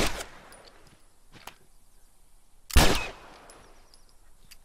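Gunshots ring out in the video game The Last of Us, starting with a faint shot, then several small clicks, then one loud, sharp report that rings briefly in an otherwise quiet scene.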